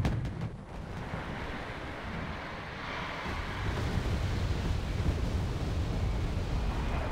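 Twin IKV mortars firing en masse in the Wargame Red Dragon battlefield, a continuous dense barrage of booming, rumbling blasts under wind-like roar, loud and sustained without distinct single shots.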